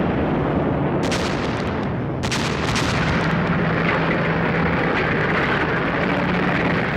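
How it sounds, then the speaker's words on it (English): A WWII artillery bombardment, as in archival war footage, comes through as a dense, loud, continuous roar of guns and explosions. Sharper blasts stand out in the first seconds, and there is no talking. "Then there was a devastating artillery bombardment."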